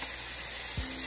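Cumin seeds are sizzling in hot oil in a pot of Pakistani mutton pulao with onion and tomato. The frying hiss is steady and fairly quiet, with a brief low thump near the end and no talking.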